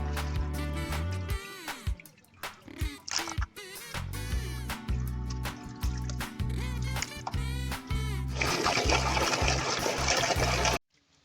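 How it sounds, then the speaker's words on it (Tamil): Quail and chicken meat are rinsed in water two or three times for a village biryani, with sloshing, splashing and dripping water sounds alongside background music, ending with a more intense rush of water. "நல்லா தண்ணியில் 2-3 டைம் கறி நல்லா அலசிக்கலாம்."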